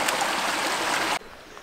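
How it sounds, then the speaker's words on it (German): A mountain stream flowing during a hike, heard as a steady, bright rushing of water that cuts off abruptly after about a second, leaving quiet outdoor air. "und einen Bachlauf"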